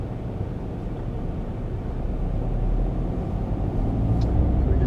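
A car pulls out of a parking space and drives out of a car park in Naas, with a steady, close engine and road rumble that rises slightly as it gets moving.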